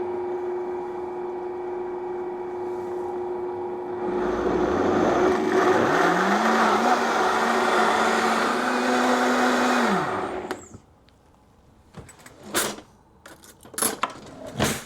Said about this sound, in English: Now let's blend it and take a look at our cheese sauce.